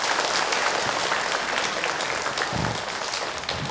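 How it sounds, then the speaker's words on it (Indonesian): Studio audience applause at an Islamic lecture show, steady dense clapping filling the whole stretch at even loudness, with no talk over it. "Tepuk tangan buat kita semua."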